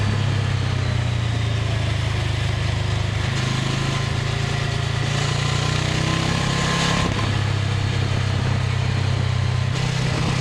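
A two-cylinder motorcycle engine drones steadily during a ride, its loud low rumble rising and falling slightly with throttle under constant wind noise, with no talking.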